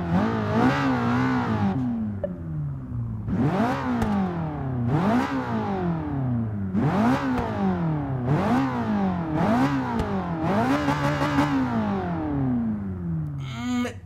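A turbocharged Ferrari 488 GTB engine in Forza Motorsport 6 fires up and then revs in about six rising and falling blips, loud and close with no voices.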